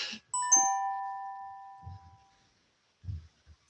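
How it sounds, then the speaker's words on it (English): A two-tone ding-dong doorbell chimes once, clear and ringing, its tone fading away over a couple of seconds in a quiet room, with a few faint thuds afterward. "there's the bell"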